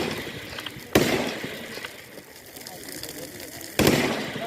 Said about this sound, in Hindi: इनकी जो सचमुच की गोलियां चल रही हों